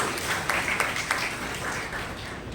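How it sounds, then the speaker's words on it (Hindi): An audience at a World Peace Day seminar claps in welcome of a guest, a fairly loud, even spread of many hands with a few sharper claps standing out, continuous throughout. "तालियों के साथ आपका स्वागत है"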